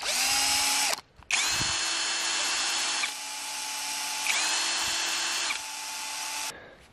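A Parkside Performance PSBSAP 12 A1 cordless drill-driver whirs loudly in steady bursts, briefly stopping and restarting, its motor pitch holding constant between short pauses.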